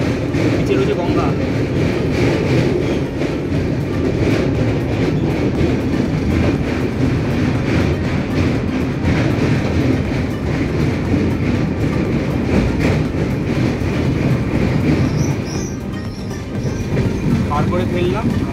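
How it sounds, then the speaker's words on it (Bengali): The Sealdah-Jalpaiguri Road Express rolls across the Nasipur bridge over the Ganges at night, heard from on board. A loud, continuous rumble and rattling wheel clatter carry on without a break. "ট্রেন পার করছে এই মুহূর্তে নসিপুর ব্রিজ"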